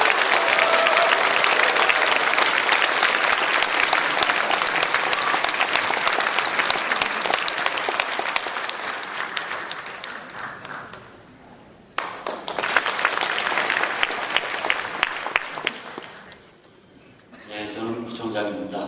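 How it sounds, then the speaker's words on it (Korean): A church congregation applauds loudly at a retired pastor's installation ceremony, dense sustained clapping that fades, briefly drops, then swells again before trailing off, with voices mixed in. "힘찬 박수로 한번 축하해 주세요"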